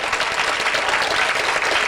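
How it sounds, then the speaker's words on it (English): An audience gives a round of applause for three boys who are about to perform, a steady, dense burst of clapping throughout. "those three boys deserve a special big round of applause to come up here and perform"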